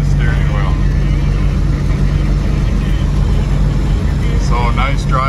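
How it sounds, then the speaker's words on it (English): A 1965 Ford Falcon cruising along with a steady low engine hum and road rumble inside the cabin, someone talking over it and faint radio in the background. "Thing drives really nice here."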